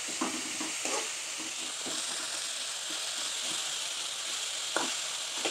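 Bitter gourd pieces fry in oil, producing a steady hissing sizzle with a few soft stirring knocks, close and moderately quiet, with no voices.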